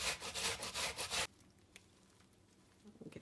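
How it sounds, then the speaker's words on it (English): Half a white onion rubbed against a grater in quick rhythmic rasping strokes, close and crisp for about a second, then quiet with faint scrapes. "Now for my white onion, I'm going to do a half a white onion, and if you notice, I'm going to be grating it."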